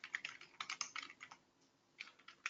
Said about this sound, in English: So what you have to type is